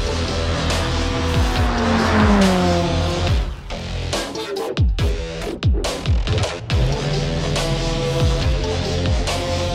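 A Peugeot 306 GTi-6 with a 2.0-litre, 167 hp engine revs hard and loud, its engine note climbing and falling, with bursts of tyre squeal and skidding partway through.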